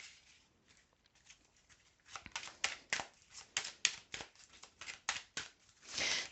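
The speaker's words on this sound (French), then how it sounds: "Alors, on va remettre une carte." Tarot cards are shuffled and laid down, a run of crisp, papery flicks and snaps close to the mic, sparse at first, then quicker and louder, ending in a brief riffling rush.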